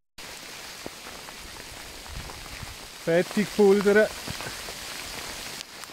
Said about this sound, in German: Es hagelt.